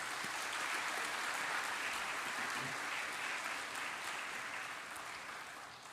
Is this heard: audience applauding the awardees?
yes